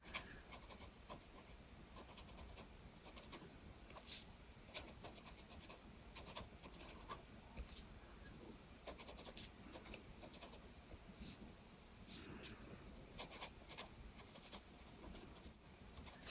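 A Platinum Curidas fountain pen with a medium nib writing on paper, close and quiet, with soft repeated scratches and strokes in an irregular rhythm.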